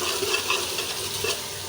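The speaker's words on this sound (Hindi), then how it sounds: "अदरक लहसुन शामिल करके हम थोड़ी देर इसको जो है वो फ्राई करेंगे" Ginger and garlic sizzle steadily in a hot pan for dal gosht, a dense, even crackle with small pops and the occasional scrape of stirring close by.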